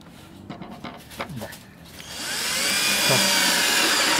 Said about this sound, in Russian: Хорошо, когда есть шуруповерт.